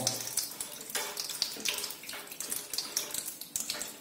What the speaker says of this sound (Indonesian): Nah ini airnya langsung keluar karena sealnya udah lepas karena kita longgarkan